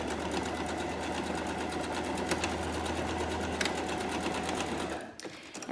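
Sewing machine back stitching a fabric mask, a steady close whirring hum that runs continuously and then stops abruptly near the end.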